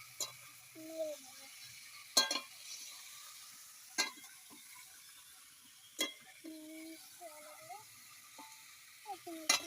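Meat for biryani fries and gets stirred in a pot with a soft sizzle, while a spoon scrapes and knocks against the pot in sharp periodic clacks and a voice talks faintly in between.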